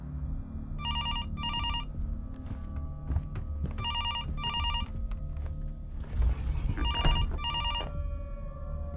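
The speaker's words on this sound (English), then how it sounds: "phone was ringing, a harsh sound cutting through the stillness like a blade" An old-style telephone bell rings in repeated bursts, each a pair of shrill metallic trills, over a low hum and muffled footsteps in a quiet room, part of a horror game scene.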